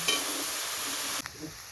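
Mushrooms fry in a pan, giving an even, bright sizzle that cuts off abruptly partway through and leaves a softer hiss with a faint clink.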